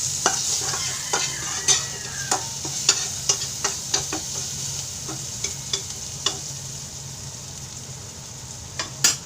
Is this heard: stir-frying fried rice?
yes